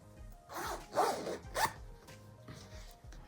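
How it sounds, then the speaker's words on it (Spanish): An invisible zipper on a sewn garment is drawn closed in a few short raspy pulls, close and distinct, without talk. "Vamos a cerrar la cremallera"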